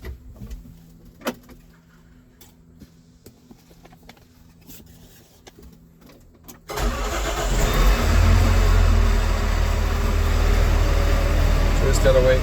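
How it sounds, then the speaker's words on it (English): A farm tractor engine cranks and catches partway through, then settles into a loud, steady idle after a quiet stretch with small clicks and switch sounds. "I'm going to start the tractor and fold the wing down"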